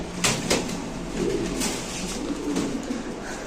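Fancy pigeons held for sale coo close by in low, rolling repeated phrases, with a few sharp clicks and wing flutters over a steady hum and no talking.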